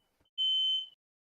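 A single electronic beep, a steady high-pitched tone lasting about half a second, sounds in the background of a quiet room with no talking over it.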